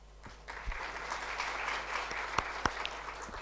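Audience applause follows a lymphoma session talk at a medical meeting, a fairly faint, steady patter of many hands with a couple of sharper claps standing out.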